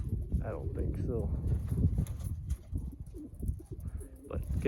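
Racing pigeons coo near their loft, soft and close, with a few brief calls mixed into continuous low voices from people talking nearby.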